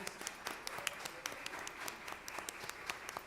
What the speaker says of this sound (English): Give our first set of panelists another warm round of applause.